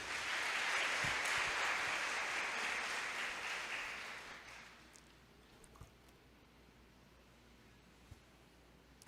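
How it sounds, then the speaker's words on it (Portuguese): A church congregation claps together in a loud, steady burst of applause lasting about four seconds, then tapers off into a quiet room with only a few faint scattered claps. "Vamos aplaudir ao Senhor por isso?"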